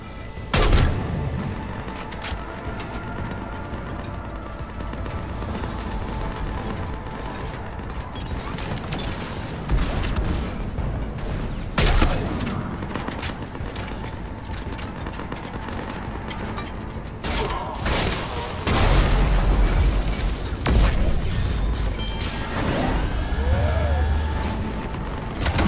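Ship cannons firing in the sci-fi game Mass Effect 3: heavy booming blasts and rattling volleys keep recurring over a dense mechanical din for the whole stretch, with occasional faint voices.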